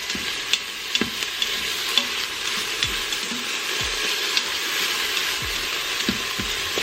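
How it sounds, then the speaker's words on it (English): Onions sauté in an Instant Pot with a steady sizzle while a utensil stirs and scrapes the inner pot, adding irregular clicks and knocks throughout. "My onions sauteing."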